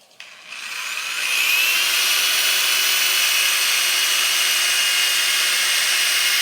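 A power drill whines up to a loud, steady high-pitched spin while a flag is being hung, sustained without pause after a brief rough start.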